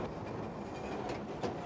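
Electric Glasgow subway train running on its rails, a steady rumbling roar with rhythmic clatter from the wheels and a brief louder surge near the end, heard up close with no talk.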